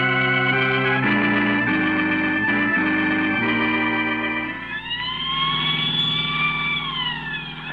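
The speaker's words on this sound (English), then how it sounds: "There are times when having a siren on this car comes in handy." A car siren wails in an old radio drama, its tone held steady and then sliding up and down in rising and falling sweeps over a low engine hum, fairly prominent and with no voices.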